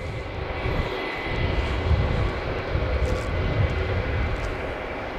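A Spirit Airlines plane taxis out to the runway at Logan Airport at night, its jet engines making a continuous, moderately loud whine and rumble. The sound is steady throughout, with no voices heard.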